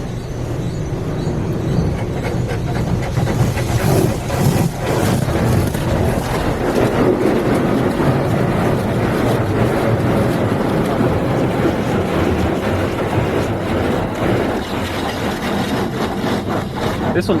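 A rusty, struggling spray nozzle at a Futura SSA automatic car wash in Tyler, Texas hisses and rumbles steadily against the car, with a mechanical engine-like drone and people talking over it.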